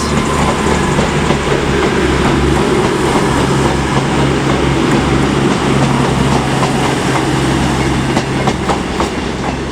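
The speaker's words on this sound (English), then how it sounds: "there goes a cross-country service. It is 221124" CrossCountry train 221124 passing through Leeds station on the Aberdeen to Penzance service, a loud continuous rumble with a droning engine tone and rhythmic clickety-clack of wheels, close by and without talk.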